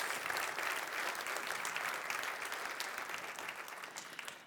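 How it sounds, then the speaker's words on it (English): An audience at a biosensor innovation day gives the competing teams sustained applause, a dense, even clatter of many hands heard from a moderate distance, easing off toward the end. "I would like to start by asking for an applause for all these teams that are here today"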